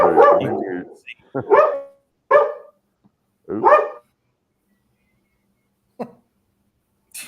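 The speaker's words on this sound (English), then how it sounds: "Somebody's walking by the window, and his dog goes nuts." A dog, set off by someone walking past a window, lets out several loud, sharp barks in separate bursts with quiet gaps between, then a final shorter bark.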